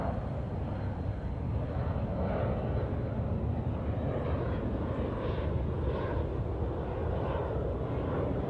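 Airplane engine drone heard from inside the cabin in flight on autopilot, a loud, steady, broadband roar with a low rumble that holds constant throughout.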